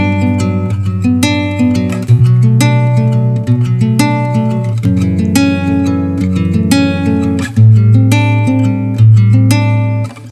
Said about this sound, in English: let's play just this main chord part here